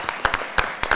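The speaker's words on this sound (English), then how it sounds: "Let's give everybody a round of applause up here." A few scattered, close hand claps ring out at a candidates' forum for four Long Beach City College candidates, brief and irregular rather than a full crowd ovation.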